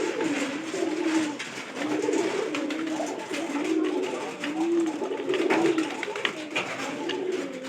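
A pigeon coos in repeated, rhythmic low phrases, fairly close, over a rough, noisy background with no talking.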